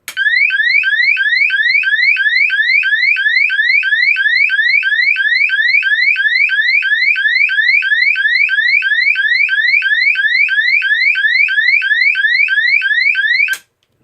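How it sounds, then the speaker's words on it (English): A GE AS363 alarm sounds its vandal alarm tone, a loud, piercing electronic whoop that sweeps rapidly upward about three times a second in a steady, unbroken series for roughly thirteen seconds before cutting off abruptly. "(1500 Hz to 2700 Hz at the 3 Hz sweep rate. This is the vandal alarm."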